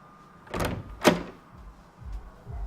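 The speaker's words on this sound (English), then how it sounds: "Door." A door opens in the video game Tesla Effect: A Tex Murphy Adventure, two quick mechanical slides and a thunk, close and clear, followed by faint low rumbles.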